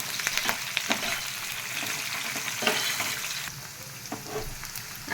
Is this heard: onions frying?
yes